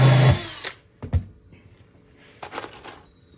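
A brief burst of a power drill whirring at the start, driving in while assembling a composite decking screened bottom board frame, followed by a few clunks and faint rattling handling sounds.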